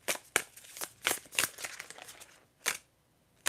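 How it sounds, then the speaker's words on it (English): Tarot cards are shuffled by hand in a quiet room, a series of crisp riffling bursts and soft slaps at an irregular rhythm, close and faint, with no talking. "I'm going to shuffle for some tarot cards for you"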